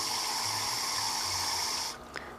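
Filtered water steadily pouring into a container with a bright rushing hiss, then abruptly stopping, followed by a small splash.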